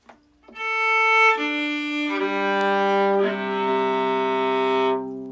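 Four bowed viola strings sound one after another from highest to lowest, each held for about a second and stepping lower in pitch, rich and sustained, with no talking.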